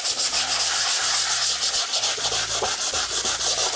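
Body filler being flattened with 80-grit sandpaper on a car interior panel, a steady, close, loud rasping scrub with rhythmic back-and-forth strokes and no talking.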